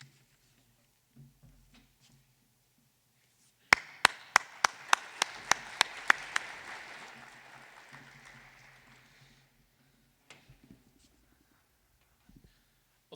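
A few sharp, evenly spaced claps quickly swell into a short round of applause from a small group at a city government address, then fade out after a few seconds.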